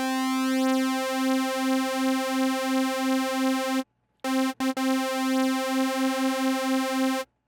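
Detuned sawtooth synth keys from the GR8 plugin, built as a synthwave release patch, sustain a note with a gentle beating wobble, stop briefly with a couple of quick blips, then resume before cutting off.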